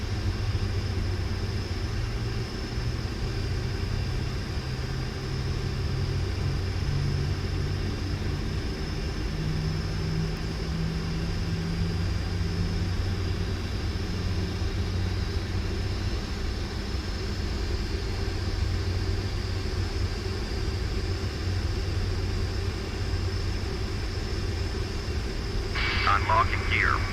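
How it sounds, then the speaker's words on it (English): Jet engines of a PMDG 747-400 spooling up in the Prepar3D flight simulator, giving a steady low droning rumble with a faint high whine that runs the whole time, and a brief click near the end. "It's a very nice low tone when they first start spooling up."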